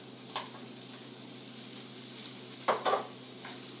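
Peppers sizzling in a hot pan on a stove as a utensil stirs them: a steady low frying hiss, with a few brief scraping stirs near the start and a couple close together near the end, no talk.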